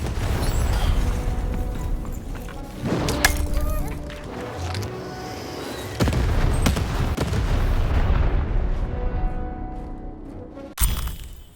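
Cannon fire in a video game, with loud booming blasts and shattering crashes mixed over a dense, busy game soundtrack.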